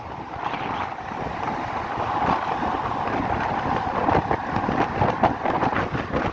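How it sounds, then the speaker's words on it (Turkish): Strong wind buffets loudly and steadily while riding a Volta VSX motorcycle on a long road trip, a constant rushing roar with gusty surges throughout and no talking. "Fena bir rüzgar da var şu an"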